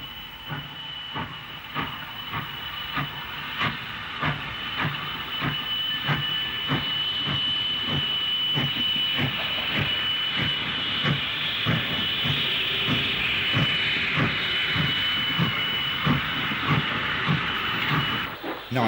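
A British Railways 70000 class steam locomotive moving off shed, its exhaust beats chuffing in a steady rhythm with a constant hiss of steam, close and loud throughout.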